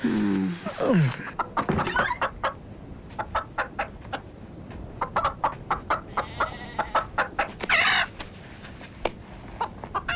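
Chickens cluck and squawk at the start, then a steady insect chirp runs underneath with sharp, irregular clicks scattered throughout.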